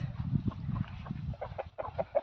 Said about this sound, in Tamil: பஹாமஸ் கோழி இது